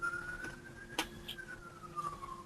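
A distant ambulance siren wails faintly, its pitch slowly falling as it passes, with a few light knocks nearby.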